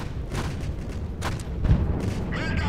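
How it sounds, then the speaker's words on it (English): Bombs explode in the Home Wars real-time strategy video game, a series of deep, muffled booms over a rumbling battlefield, with one heavier thud standing out near the middle. "dropping some bombs"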